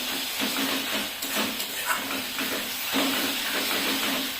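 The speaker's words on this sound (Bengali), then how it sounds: "আদা রসুন পেঁয়াজ পেস্টটা ভালো করে ভেজে নিচ্ছি" Ginger, garlic and onion paste sizzles in a pan while being fried for homemade chicken biryani, giving a steady close hiss with faint crackles throughout.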